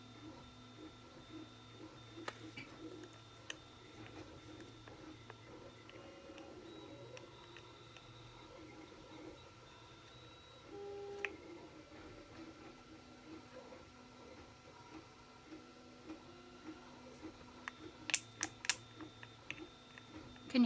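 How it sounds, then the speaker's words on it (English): Faint mechanical whirring and small ticking noises from 3D printers run steadily in the background, with occasional sharper clicks toward the end. "You can hear my 3D printers going in the background."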